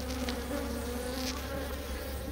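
Honeybees buzz densely at an opened hive, a continuous close droning hum with no pauses and no voices.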